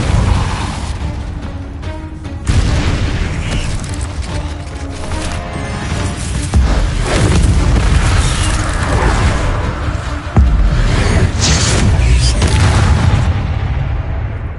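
Repeated Confringo blasting spells explode in the Hogwarts Legacy video game: loud, dense booms and crashing impacts arrive in quick succession over a constant rumbling game soundscape, with sharp new blasts near the start and middle.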